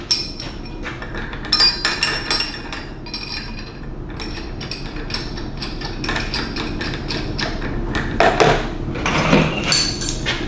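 Steel rigging hardware, a master link or 5/8-inch shackle, being fitted onto a swivel hoist: repeated sharp metallic clinks and knocks at irregular intervals, close and fairly loud, with no voices.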